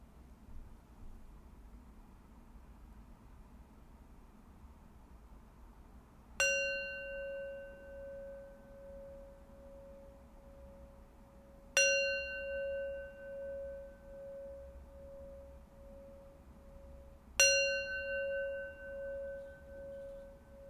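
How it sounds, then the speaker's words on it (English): A meditation bell rings three times at steady intervals, each strike a clear, pure tone that hangs and decays slowly over a faint background hiss in an otherwise quiet room. "I'm going to end our time of meditation with 3 rings of the bell."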